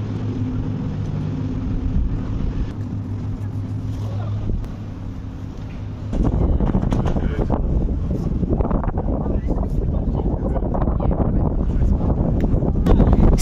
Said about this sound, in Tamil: செம்ம காத்துங்க, பத்தாவதுக்கு தூரலும் ஆரம்பிச்சிடுச்சு.